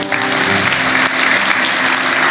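A church congregation during a sermon claps for Jesus in a brief burst of steady, dense applause, loud and continuous throughout.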